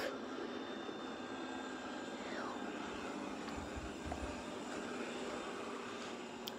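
Steady aircraft engine drone, a continuous broadband roar with a faint descending whine partway through and low rumbling thumps near the middle, fairly quiet and uniform throughout.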